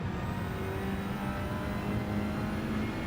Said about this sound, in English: Oh, it's noisy when you lift the throttle off.